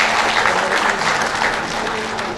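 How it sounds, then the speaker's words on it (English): An audience at the inauguration of a physics conference at Tripura University claps for the Department of Physics, a loud, dense round of applause that swells early and then tapers slightly, with a low steady hum beneath. "let us give a big clap to the Department of Physics organizing such a wonderful event"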